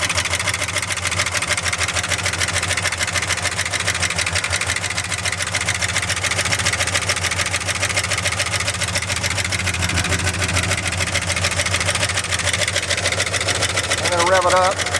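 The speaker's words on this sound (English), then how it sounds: "I'm going to rev it up." A 1976 Ford F-250 Ranger XLT crew cab 4x4 truck engine idling steadily and close, a continuous rumble with someone talking over it.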